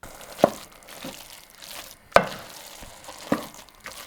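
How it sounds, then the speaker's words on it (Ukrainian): Soft sizzling of apples cooking in a pan with a few sharp scraping knocks as they are stirred, fairly quiet and close. "яблука мають готуватися 5-7 хвилин, періодично помішуючи."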